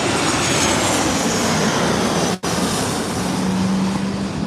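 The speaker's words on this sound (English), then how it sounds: "catch this Southwest flight coming in" A Southwest Airlines jet coming in to land low overhead at LAX roars loudly and continuously, a broad engine rumble that holds steady through a brief dropout.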